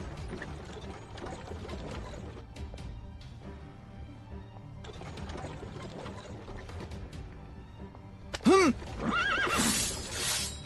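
A frightened horse neighs with a loud, wavering whinny near the end, after a stretch of mechanical clicking and low background noise; there is no clear talk.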